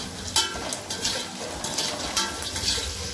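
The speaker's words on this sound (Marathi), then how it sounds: "हलक्या आशेवर भाजून घ्यायचे" Phutane chickpeas roasting in a pan on low flame for spicy bhadang, with intermittent stirring scrapes and light rattles over a soft steady sizzle, close by and without voices.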